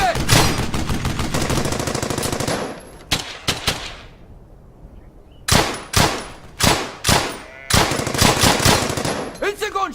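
Gunfire in the World War II shooter Brothers in Arms: Hell's Highway, with rapid machine-gun bursts and sharp single rifle shots in loud volleys, broken by a brief lull, close and intense.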